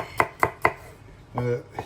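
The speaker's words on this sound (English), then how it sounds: "So I'm just chopping up the garlic here." A kitchen knife chops garlic on a board for a homemade Guinness chilli, giving three crisp, evenly spaced, close knocks followed by a short muffled sound and one more light tap.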